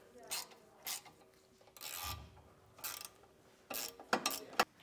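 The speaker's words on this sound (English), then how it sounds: "Now we can take a 10 millimeter socket and an 11 millimeter wrench and tighten down the hex bolts and our bolts up here." Socket and wrench tightening hex bolts while fitting Firestone Ride-Rite air helper springs on a 2020 Chevrolet Silverado, a few short ratcheting and scraping bursts, close and moderately quiet, in intermittent strokes.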